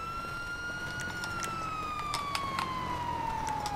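A fire truck siren in Grand Theft Auto Online wails with a single tone that slowly glides downward, loud and continuous, with faint game noises underneath.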